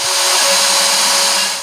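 A machine engraves a design into a wooden box lid, a loud steady high-pitched whine with a constant tone, running alone and fading slightly at the end.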